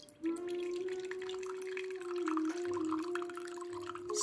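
A thin stream of gin pours steadily into a marked glass, with a faint ringing tone rising slightly as it fills, close up and quiet.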